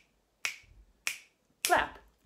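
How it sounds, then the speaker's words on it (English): Three sharp, close hand claps ring out in an even rhythm during a children's rhythm lesson, each a crisp isolated crack with silence between. "then on the fourth, I'm going to clap"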